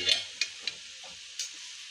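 A pan of spinach being stirred, with a soft background sizzle and a few sharp scrapes and clinks from the utensil spaced through the two seconds.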